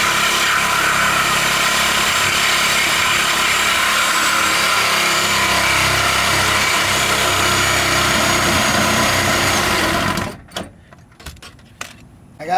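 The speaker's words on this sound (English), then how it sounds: "The exhaust is cut." A Lexus GS430 V8 engine with its exhaust cut runs loudly and steadily for about ten seconds, a raw, constant rumble that then shuts off abruptly, leaving quiet with a few clanks.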